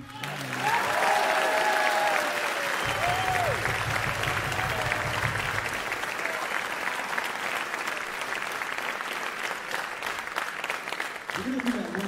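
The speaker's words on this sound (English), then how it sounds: "You can clap for him." Sustained audience applause in a hall at an evening college jazz ensemble event, steady and full from many hands throughout, with a voice briefly audible over it near the start and end.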